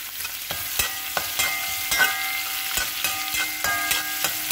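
Vegetables including beans and onion stir-fry in a hot pan for Kerala-style vegetable noodles, a steady sizzle broken by repeated sharp scrapes and clacks of a spatula tossing them, close and without talk.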